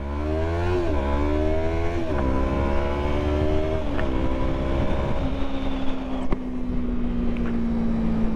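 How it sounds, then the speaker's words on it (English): Loud supercharged Corvette accelerating hard from a red light, engine revving up through several gear changes with rising whine, then settling into a steady roar as it pulls away. "I don't know if I've ever heard a Corvette that loud."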